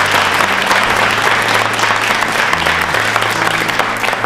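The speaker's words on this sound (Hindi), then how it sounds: "जोरदार तालियां बजाइए आप सभी के लिए।" Loud, dense applause from a large crowd at a quiz show, steady clapping throughout with a low hum underneath.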